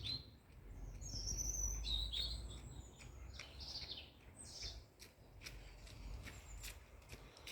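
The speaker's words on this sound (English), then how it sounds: "listen to the bird song" Birds chirp and trill in bursts at moderate distance in a park in Blundellsands, Crosby, Liverpool, over a steady low rumble of outdoor background noise, with no talking.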